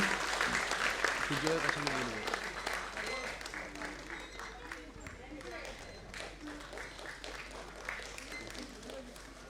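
An audience claps at an Indian classical music and Kriya Yoga event, a steady wash of applause that thins slightly over time, with a voice speaking over it.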